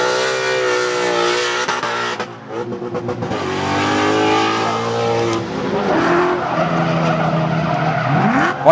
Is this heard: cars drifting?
yes